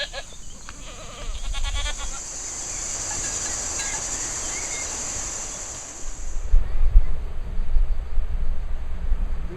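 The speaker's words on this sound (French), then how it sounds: "On va chercher les chèvres." Goats bleat over a steady roar of surf, with the animal calls coming early and the waves swelling louder toward the end.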